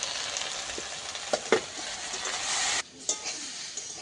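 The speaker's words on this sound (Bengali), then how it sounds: "কচুর ফুলটা একটু সাঁতলে নিয়েছি" Taro flowers sautéing in a hot pan while cooking with loitta fish, a steady broadband sizzle of frying with a few sharp stirring clatters, then the hiss drops abruptly near the end.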